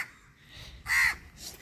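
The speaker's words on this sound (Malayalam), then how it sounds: "എന്താ കാക്കകൾ ഇഷ്ടം പോലെ കേട്ടോ. കാക്കയ്ക്ക് കുറവില്ല." Crows on Kalpeni island give a single clear caw, moderately loud and near, amid quiet outdoor background with a fainter call trailing after it.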